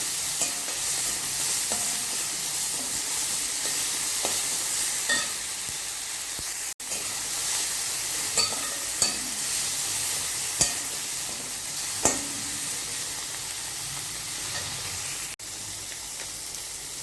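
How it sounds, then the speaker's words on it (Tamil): Tomatoes and curry leaves sautéing in a pan for idiyappam kothu, an even close sizzle with occasional light clicks and stirring scrapes throughout, no voices. "கூடவே கொஞ்சம் கருவேப்பிலையும் சேர்த்துக்கலாம் தக்காளி நல்லா வதங்கட்டும்"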